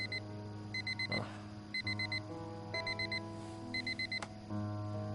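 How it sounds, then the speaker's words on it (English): A digital alarm clock in the video game Fragments of Him beeps in repeated bursts of four quick tones over a soft, sustained ambient music bed. "Every day that alarm goes off. I should change the tone on it."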